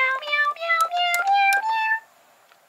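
The Kotofon cat-shaped toy piano gives out synthesized cat meows, a quick run of several bright, pitched mewing notes stepping upward, heard close and alone, then silence.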